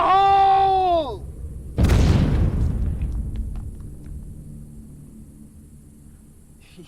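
A loud explosion in an action film bursts in with a heavy boom and a long rumbling decay that fades over several seconds, after a brief sustained tone.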